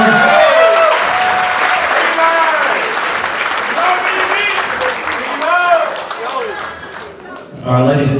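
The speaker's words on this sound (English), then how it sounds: "Come on, give it another round of applause." A crowd at a wedding reception applauds steadily with clapping throughout, while a voice speaks over it; the applause fades near the end before a brief louder burst.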